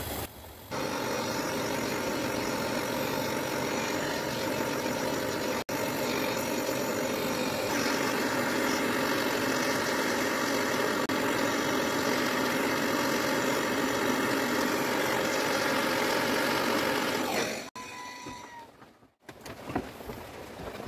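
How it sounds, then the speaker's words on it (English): A self-igniting gas torch burns steadily while melting silver, a loud continuous roar that holds for most of the stretch, then cuts out abruptly with a few clicks and rustles before the flame noise returns briefly. "melting our silver here using our self-ignition torch, gas torch"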